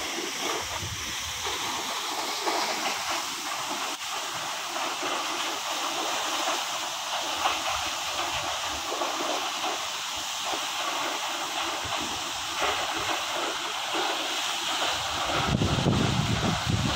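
Vasudhara Falls pours down near a hillside temple, giving off a constant broadband rush of falling water. The roar stays steady and close, with some wind buffeting, and no speech is heard over it.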